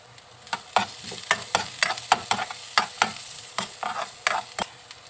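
Garlic sautéing in a pan for escabeche, with a steady low sizzle broken by regular scraping and stirring strokes of a utensil, close and moderately loud.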